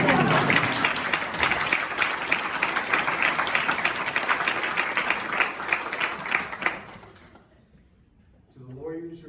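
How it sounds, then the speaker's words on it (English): Courtroom audience at a judge's portrait unveiling in Harris County breaks into sustained applause, a thick wash of clapping for nearly seven seconds before it cuts off and a voice begins. "That's an applause line."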